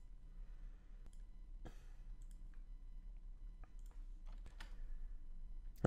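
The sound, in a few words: typing keyboard shortcuts on a computer keyboard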